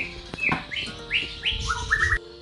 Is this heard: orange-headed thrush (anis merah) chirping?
yes